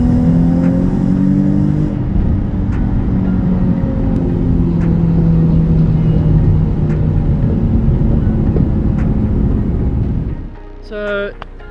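Modified Nissan Z sports car engine revving loudly and close, a steady heavy exhaust drone with rising pulls and crackles throughout, cutting off near the end before a brief final blip.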